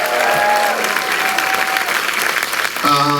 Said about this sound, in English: Ladies and gentlemen, big round of applause for Larry, Tracie, and Bryan.